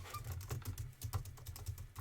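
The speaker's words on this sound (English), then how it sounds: "I'm making typing sounds" Rapid, steady typing on a computer keyboard, soft close-up key clicks in an even patter with no voices.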